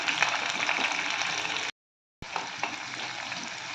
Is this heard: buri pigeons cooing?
no